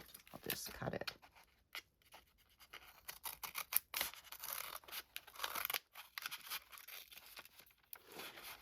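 Scissors snip through the plastic packaging of a Hobonichi planner, a run of short crisp cuts mixed with crinkling and tearing wrap, close and fairly quiet, with a voice talking at times.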